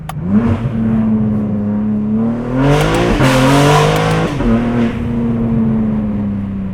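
A BMW G80 M3 with a 4-inch exhaust roars loudly through an acceleration pull, pitch climbing steadily with a brief dip at a gear change, then rising again.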